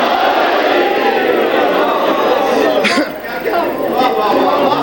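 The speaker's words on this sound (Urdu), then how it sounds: "دونوں ہاتھ بلند کر کے نعرے حیدری" A large crowd at a religious majlis gathering raises a loud, sustained collective chant of the Nara-e-Haidari slogan, a dense wall of many voices that barely dips midway before swelling again.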